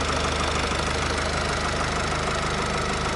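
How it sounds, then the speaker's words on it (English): Mercedes-Benz E220d 2016 with a 2-liter diesel engine idles steadily, a continuous even clatter with a low, regular pulse and no voices. "Sounds really nice, really steady. It's a 2-liter diesel motor"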